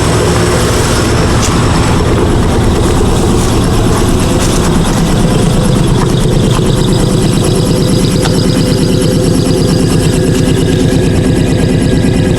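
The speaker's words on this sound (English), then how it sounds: "Let's go outside and see what the muffler sounds like outside." An Eaton 7.5 hp air compressor fitted with a muffler chugs continuously outdoors, a loud, dense rhythmic mechanical thrum with no speech over it.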